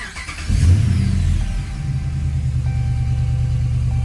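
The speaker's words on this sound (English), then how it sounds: "And then you start the truck." A Ram truck's 5.7 Hemi engine cranks briefly and catches, then settles into a steady, loud idle rumble close by with no voices.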